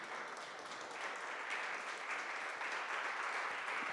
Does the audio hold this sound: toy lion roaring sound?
no